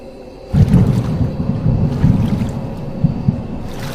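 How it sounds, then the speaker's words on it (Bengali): Cartoon sound effect of a boat racing through churning water, a loud steady rushing wash that swells in after a quiet start and keeps surging with low rumbling bursts throughout. "জলকে তোলপাড় করে সব বাধা ভেঙে নৌকাটাকে তীর গতিতে নিয়ে যাচ্ছে"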